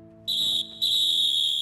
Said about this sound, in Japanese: ここで前半終了のホイッスル。